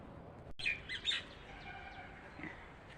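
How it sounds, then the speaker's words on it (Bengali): A bird outdoors gives a few bright chirps close together near the start, followed by fainter calls against quiet background noise. "কি সুন্দর পাখিটা ডাকছে"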